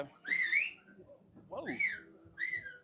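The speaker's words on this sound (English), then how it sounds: "Some guy whistling here." A man whistles a few rising and falling phrases in short bursts, with faint crowd murmur and background sound underneath.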